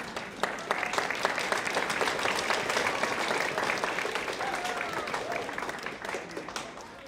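An audience claps at a middle school honors band concert, a dense burst of applause from a large crowd that swells and then slowly tapers off.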